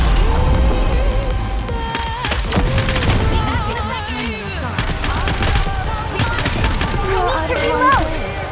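Rapid gunfire from NIKKE: The Goddess of Victory pops in dense bursts throughout, mixed with game music and effect tones, loud and busy.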